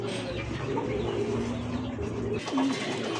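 A male pigeon coos in low, rounded tones that repeat through the stretch, fairly close, with a steady murmur of other birds and background noise underneath.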